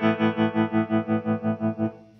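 Tremolo in sine-wave mode from a Wampler Terraform modulation pedal makes a sustained guitar chord swell and fade in an even pulsing rhythm, about five pulses per second, before the note dies away, with no talking.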